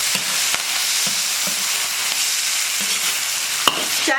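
Pork liver stir-frying with pickled chilies in a hot wok: a steady, dense sizzle with scattered spatula clicks and scrapes against the metal, close and unbroken, no voices.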